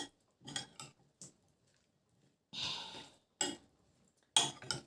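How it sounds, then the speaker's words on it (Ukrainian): Cutlery clinks and scrapes against a bowl while a homemade salad dressed with vinegar is tossed, in short separated bursts, close by, with no talk. "тепер я це все перемішую"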